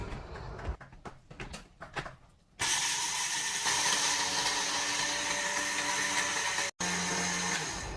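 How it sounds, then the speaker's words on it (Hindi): Fresh black pepper ground in a kitchen by a home cook, a steady close whirring grind that starts abruptly after quieter clatter, runs for about five seconds, cuts out briefly and then resumes. "ये मैं ब्लैक पेपर जो है वो इसमें फ्रेश ग्राइंड करके तो अब डालने लगी हूँ।"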